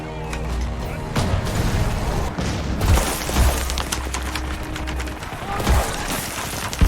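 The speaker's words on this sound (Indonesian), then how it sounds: "Makarov menyelesaikan tembakan terakhirnya, yang menyebabkan tank musuh hancur" Gunfire and a tank blowing up in a World War II battle at Sevastopol: dense, loud fusillades crackle continuously, with heavy booms and blasts punching through at intervals and a low rumbling base throughout.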